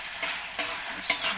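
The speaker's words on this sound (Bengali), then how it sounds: "একটু ভালোভাবে কষিয়ে নিতে হবে। মশলা কষানো হয়ে গেছে" Spice paste is sautéed in a pan for a fish dish, a soft hiss of frying broken by three short bright bursts as a spoon stirs and scrapes the mixture.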